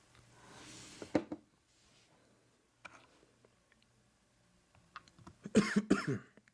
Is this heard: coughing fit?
yes